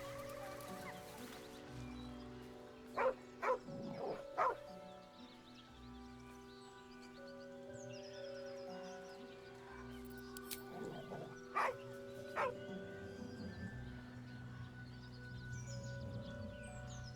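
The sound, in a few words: dog barking and growling in video game Baldur's Gate 3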